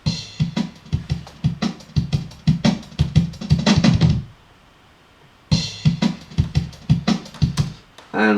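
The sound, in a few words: drum break synced to 176 BPM drum and bass tempo in Serato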